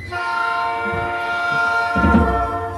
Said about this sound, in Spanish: Oiga, el tren. Ahí viene el tren.